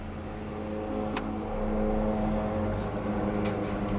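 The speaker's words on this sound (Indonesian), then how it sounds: "Tuh loh, mobil-mobil suaranya." Cars drive past on a highway as a steady, loud engine and tire drone, swelling gradually with no talking.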